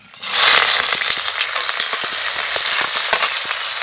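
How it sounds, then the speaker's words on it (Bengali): Chopped onions hit hot oil in a kadai with a loud, steady sizzle. Scattered pops and crackles run through the whole clip, with no one talking. "পেঁয়াজ কুচিটাকে কিন্তু একটু ব্রাউন রং করে ভেজে নিতে হবে।"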